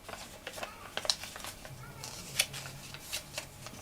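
Dull scissors snip through fabric for foundation paper piecing of a pineapple log cabin quilt block, giving a few sharp, quiet cuts spread across a soft, close background.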